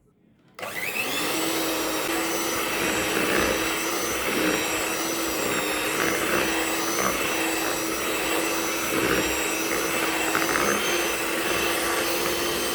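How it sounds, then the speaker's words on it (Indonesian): An electric hand mixer whirs steadily at close range, beating cake batter for choux pastry with eggs, a continuous high motor drone that starts abruptly and holds level throughout. "Jadi pakai telur ketiga kita masukkan dan kita mixer lagi sekitar 1 menit."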